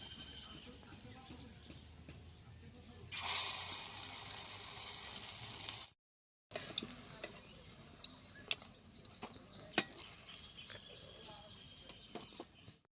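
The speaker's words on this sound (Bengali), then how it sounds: "একই রকমভাবে আমি সবগুলো বড়া ভেজে নেব" Khesari lentil fritters fry in hot oil, with a sudden loud hiss that lasts a few seconds and then gives way to quieter bubbling and occasional clicks. Someone talks over it.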